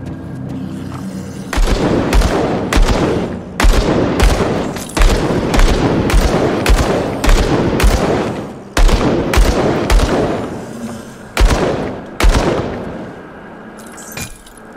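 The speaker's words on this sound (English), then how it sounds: "There's something in there to shoot." Gunfire rings out in Grim Dawn, a string of sharp, loud shots in irregular bursts with glassy breaking crashes, close and dominant with no talk over it.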